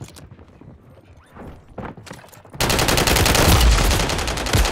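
Call of Duty gunfire comes in as a sudden, loud, sustained burst of rapid automatic shots, following a quieter stretch of footsteps and faint game sounds.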